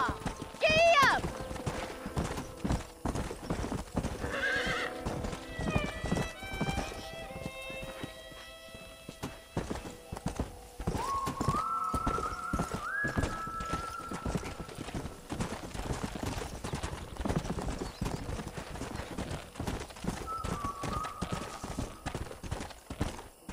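Horse hooves clip-clopping along in the Red Dead Redemption video game, a quick steady rhythm of hoofbeats with occasional neighs, joined by in-game voices talking and musical tones over the top.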